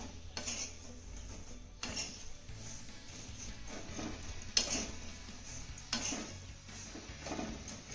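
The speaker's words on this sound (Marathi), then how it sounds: "त्याला छान असे डाग पडेपर्यंत आपण मिरच्या भाजून घेऊया." Fresh red chillies roasting in salt in a pan, with a spoon or spatula scraping and clinking against the metal in a few sharp strokes over a low background rustle, close and fairly quiet.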